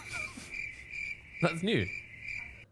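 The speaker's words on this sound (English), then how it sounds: "Crickets." Cricket chirping played as a comedic sound effect during a live stream, a steady high trill running under a brief spoken remark.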